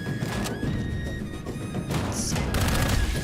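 Gunfire from the video game Dark Void: a steady stream of shots and impacts with sharp crackling bursts near the end, layered over dense low rumble and thin high electronic tones.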